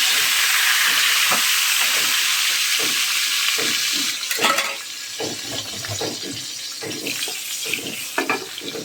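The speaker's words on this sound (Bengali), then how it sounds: "তেজপাতা তিন চারটা দারচিনি আর এলাচ দিয়ে দিলাম" Bay leaves, cinnamon and cardamom hit hot oil with a loud hissing sizzle that settles into a quieter crackle with scattered pops and stirring taps.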